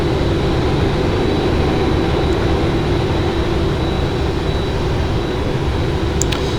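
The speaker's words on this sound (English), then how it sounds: "I'm going to lower the gear down, and ask flaps 20" Steady loud airliner engine drone with low rumble inside a PMDG 777 flight simulator as landing gear lowers and flaps extend to 20 on approach, continuous and unbroken with no talk.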